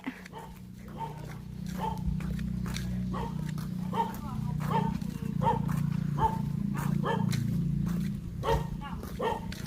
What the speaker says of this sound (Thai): เขาบอกว่าหมาเห่ามันไม่กัดไม่ต้องกลัว